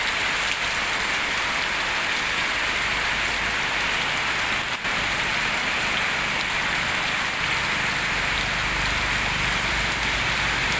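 Heavy rain pours down steadily at a police station parking area in Phanom Phrai district, a loud, unbroken hiss of drops striking surfaces close by with no letup.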